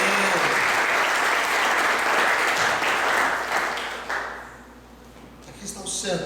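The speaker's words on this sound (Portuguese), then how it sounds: "Vamos dar uma salva de palmas para Jesus." Loud congregational applause at an evening church service, filling the room for several seconds before fading away, with a voice heard faintly near the end.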